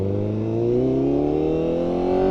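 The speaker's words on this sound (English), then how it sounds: "this bike sounds so good" A motorcycle engine revs up close and loud, its pitch climbing steadily through a smooth, continuous throttle run with no pauses.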